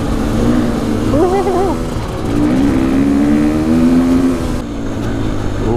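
A Husqvarna enduro motorcycle throttles hard over bumps, its engine note surging and falling in quick revs, loud and close with continuous rough rumbling.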